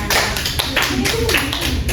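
A class claps together after a group's role-play presentation in a biology micro-teaching session, a steady run of sharp, close handclaps filling the room with some background voices.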